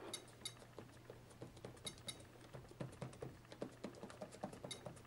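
Keys clatter in quick, irregular taps on the keyboard of a V-Tech Laser 110 computer, some keys faulty, heard up close but quietly with no voices.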